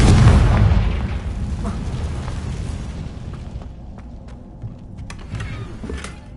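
Confringo fire spell blasting in the video game Hogwarts Legacy: a loud, booming burst at the start that rumbles and fades over several seconds, with smaller crackles and pops trailing after.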